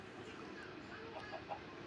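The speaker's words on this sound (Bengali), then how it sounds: "মুরগি আছে, মুরগিকে মারবো।" Minecraft chickens cluck in a few short soft bursts over a steady low game background, fairly faint and without talk.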